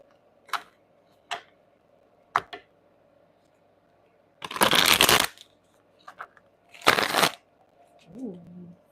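Tarot card deck handled and shuffled close up: a few sharp separate card taps, then two longer bursts of riffle shuffling, ending with a brief voice.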